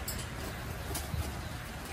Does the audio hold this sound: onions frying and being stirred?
no